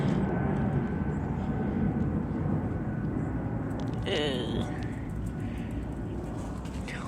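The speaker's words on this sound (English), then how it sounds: "The airplane, stupid airplane." Airplane passing overhead, a steady broad low drone filling the whole stretch, fairly loud and distant, with a brief chirpy sound partway through.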